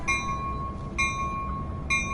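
A steady, high-pitched train horn tone in Train Sim World 2020 sounds three times at regular intervals over a continuous low rumble, with no one talking.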